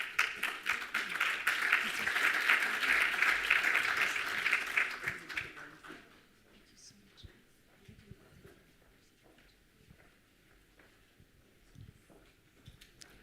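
A conference audience at an event on AI and the future of work claps loudly to welcome two guests onto the stage. The applause swells for about five seconds, then dies away into a quiet room with faint shuffling.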